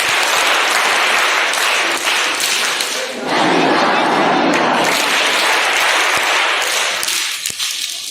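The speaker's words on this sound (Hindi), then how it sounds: "ताली बजा।" Audience applause at a news event, dense and loud clapping sustained across the whole stretch with a slight dip and swell midway, scattered thumps mixed in, and no voices over it.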